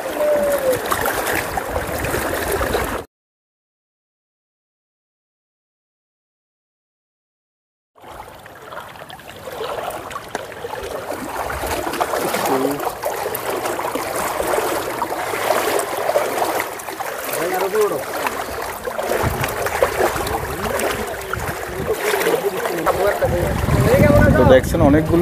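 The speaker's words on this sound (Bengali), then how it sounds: "তো দেখছেন অনেকগুলো নৌকা দিয়ে বোট দিয়ে নিয়ে যাওয়া হচ্ছে।" Boats ferrying crowds of people across flood water in Tripura, a steady rushing wash of water and splashing that continues after a brief silent gap, with voices talking throughout.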